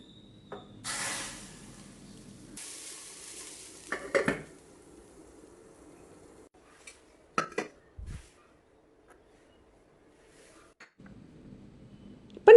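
A tempering of mustard seeds, urad dal and fenugreek, with optional dried red chilli, sizzling briefly as it is poured into rasam; quiet clatter of pots and a stirring hiss in bursts, with long near-silent gaps between them.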